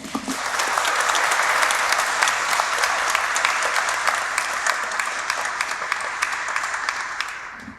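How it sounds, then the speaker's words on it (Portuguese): Applause fills a mining and mineral resources conference hall, the audience clapping loudly and steadily for several seconds before fading slightly at the end. "Essa merece uma salva de palmas, gente."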